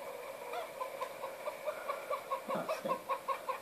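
Chickens in the farming game Farming Simulator 17 cluck in a quick, fairly regular series of short calls. The calls are faint and grow busier toward the end.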